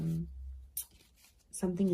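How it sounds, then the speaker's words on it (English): Tarot cards shuffled by hand give soft papery rustles and brief flicks in a short gap between stretches of talking. "I'm just shuffling my other cards"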